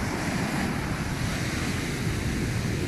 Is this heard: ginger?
no